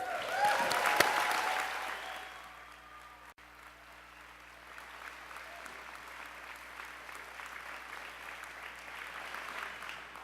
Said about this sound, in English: How about a round of applause for all of our graduates today?